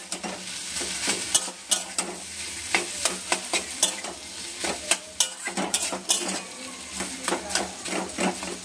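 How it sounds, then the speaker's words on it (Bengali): Potatoes frying in a pan are stirred with a utensil, scraping and clinking in an irregular rhythm over a steady close sizzle. "এবার আবার নেড়ে নিচ্ছি ভালো করে।"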